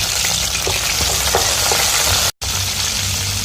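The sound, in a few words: garlic and ginger paste frying in oil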